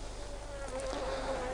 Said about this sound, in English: I've got a guard bee bothering me here.